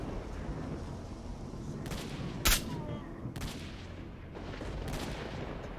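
Distant rifle shots in S.T.A.L.K.E.R.: Shadow of Chernobyl, one sharp crack followed by a few softer, duller reports echoing over a steady ambient outdoor rumble.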